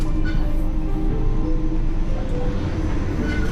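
Thai train rolling along, heard from inside a carriage: a loud, steady rumble and rattle of wheels and car body, continuous throughout with no voices.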